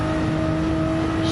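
Short burst of a car engine in Gran Turismo 7 during a race, a steady whirring tone held high, loud and up close.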